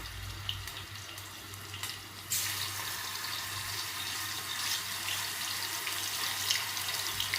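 Marinated chicken frying in hot oil in a pan gives a steady, close hiss that swells sharply and stays loud once the pieces go in, with no voices.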